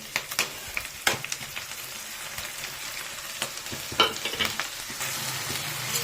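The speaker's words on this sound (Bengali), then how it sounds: "এবার দেবো, এখানে রয়েছে আদা, জিরে, হলুদ গুঁড়ো, লঙ্কা গুঁড়ো।" Ginger, cumin, turmeric and chilli powder go into a pan of frying onion and garlic for soya chunk kofta curry, a soft steady sizzle broken by sharp clacks and scrapes of a spoon stirring, close and fairly quiet.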